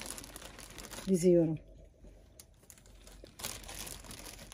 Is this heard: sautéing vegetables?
no